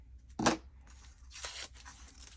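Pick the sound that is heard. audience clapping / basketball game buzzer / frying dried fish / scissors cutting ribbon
scissors cutting ribbon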